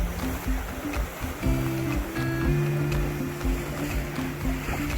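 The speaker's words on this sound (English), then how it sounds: "Just cruising down the waves." A Farr 60 sailboat cruises through waves on the Mediterranean, with a steady wash of water and hull rushing close by and a low droning hum running underneath.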